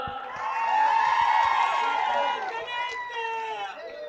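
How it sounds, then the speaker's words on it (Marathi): A crowd at a political rally in Jat cheers and claps, a broad roar with whoops that swells and then tapers slightly, while a voice rings out over it. "संजय राऊतसाठी एकदा टाळ्या वाजवा"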